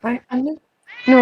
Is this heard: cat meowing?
yes